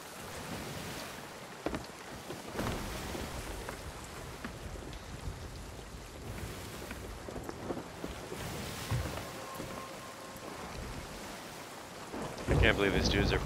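Thunderstorm at sea in a pirate video game: a steady roar of rain and wind with sharp thunder cracks near the start, ending in a louder, brighter burst of stormy noise, with no talking.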